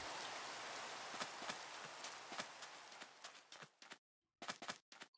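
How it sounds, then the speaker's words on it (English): Rain falling in the video game Minecraft, a steady dense hiss with scattered louder drops that thins into sparse patters and briefly cuts out near the end. "Well, now it's dark and raining."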